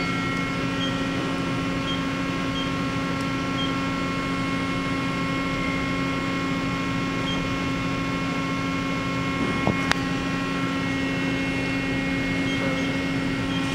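Mori Seiki NL3000Y CNC turning center with Y-axis milling and bar feeder, running its C-axis: a steady, even mechanical hum with constant whining tones, unchanging throughout, with one brief faint click near the end and no talk.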